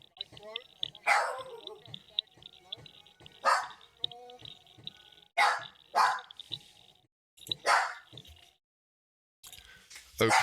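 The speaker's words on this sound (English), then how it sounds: "My dog's going ballistic. Somebody must be at the door." A pet dog barks frantically at someone at the door indoors, loud sharp barks in clustered bursts separated by short pauses, with a steady electronic tone humming underneath.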